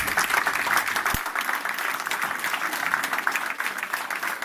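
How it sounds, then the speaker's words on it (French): Audience at a general assembly applauding steadily, a dense, sustained wash of clapping from a large room with no pauses, close and fairly loud throughout. "J'aimerais très sincèrement que vous vous leviez et que vous applaudissiez Nabil, s'il vous plaît."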